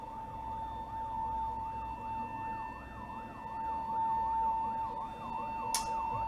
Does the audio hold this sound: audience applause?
no